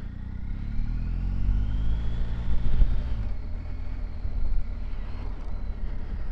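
A 2021 BMW R1250GS Adventure 40th Edition motorcycle pulls away, its engine note rising through the gears with steady low rumble and some wind buffeting on the microphone, no talking.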